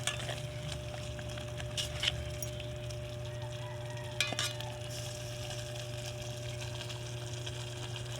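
Spices being stirred into a dish frying in a pan: a steady low sizzle with a few faint utensil clinks, over a constant background hum.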